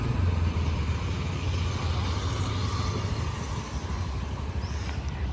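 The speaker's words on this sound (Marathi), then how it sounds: "आज तिसऱ्याच दिवशी किती छान पद्धतीने गाडी चालवते बघा" A scooter is ridden by a learner on her third day, its engine giving a steady, close, continuous hum and drone with road noise for the whole stretch, and no talking.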